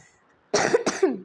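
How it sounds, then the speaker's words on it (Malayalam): Two sharp, close coughs from one person follow a quiet moment, the second a little after the first, loud and alone with no talk. "എനിക്കൊരു ചുമ ഉണ്ട്, സോറി പറയുന്നു"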